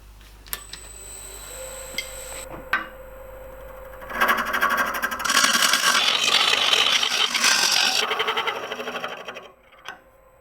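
A carbide tool cuts an internal taper into a turned wooden travel mug on a wood lathe: a few sharp clicks and a low hum, then about five seconds of loud, close, rough scraping before it stops.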